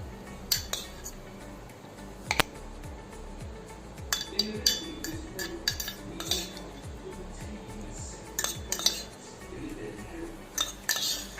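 Soaked rice being moved into a mixer jar in a kitchen, with clinks and scrapes of a spoon and steel utensils, a series of short sharp knocks and taps scattered over quiet background.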